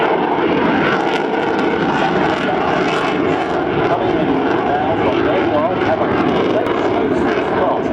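Sukhoi aerobatic aircraft flying just above the stall at an air show, its engine giving a steady, loud droning roar that fills the whole stretch with continuous broadband noise and no clear breaks.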